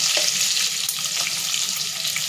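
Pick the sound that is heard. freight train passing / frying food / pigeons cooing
frying food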